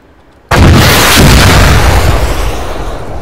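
Static weapons firing in an Arma-style military video game, with a sudden loud, booming blast that rolls out into a sustained, slowly fading rumble.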